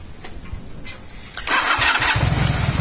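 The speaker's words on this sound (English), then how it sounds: "then we're going to start the bike up" A motorcycle engine starts up close by: a brief cranking whirr, then the engine catches and settles into a steady, loud running rumble.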